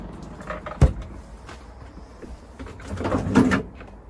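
A compartment door on the fridge freezer of a 2021 Roller Team T-Line motorhome opens and shuts, giving a sharp close-by thump followed a few seconds later by a softer, more drawn-out rattle and knock.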